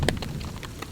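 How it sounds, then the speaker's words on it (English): Heavy rain pours down during a severe thunderstorm, a dense steady hiss with scattered sharper drops and patter throughout one continuous second, loud and close, with no voices. "That is a severe thunderstorm, and we are right on the edge of the warning."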